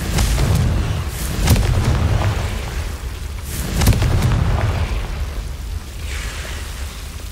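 A fire spell explosion in the game Hogwarts Legacy, cast as Confringo: loud, deep booming bursts that swell and roar twice across several seconds, with no voices over them.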